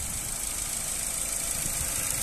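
Ford Focus 1.6 petrol automatic estate idling with the bonnet open, a quiet, even engine hum with a faint hiss, steady and unbroken for the whole stretch.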